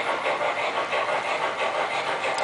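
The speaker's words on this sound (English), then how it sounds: "gives you the sound effects of the chugging effect, but also it smokes and whistles and the bell rings" A Mike's Train House Mikado model train engine gives off a steady, rhythmic chugging sound effect, continuous and fairly loud throughout without talk.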